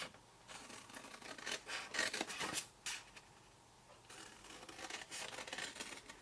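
Scissors snipping through card for a pagoda top box, quiet close-up bursts of cutting and rubbing in two spells separated by a short pause.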